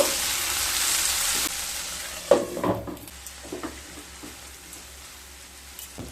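Onion, ginger and garlic fry in a pan with a loud hiss at first, then a clatter of stirring, followed by a softer, steady sizzle with occasional scrapes and no speech.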